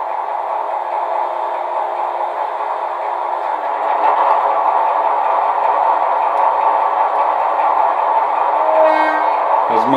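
Diesel engine sound from a second motor on a Piko V200 model locomotive sound module, a steady loud drone that rises slightly partway through, with a brief horn-like tone near the end.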